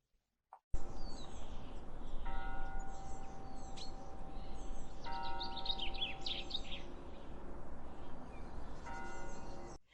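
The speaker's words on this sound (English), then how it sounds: "We have some bell sounds in the distance, some birds, the wind, and a bunch of other things." Distant bells ring out in sustained tones over a steady wash of wind, with birds chirping and calling throughout.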